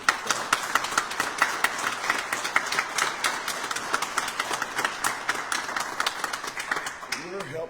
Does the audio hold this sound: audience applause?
yes